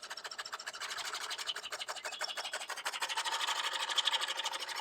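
A vintage Min X Galloping Ghost radio control actuator buzzes in rapid, even pulses as it keeps the control surfaces moving. The faint mechanical chatter runs steadily throughout, with no voices.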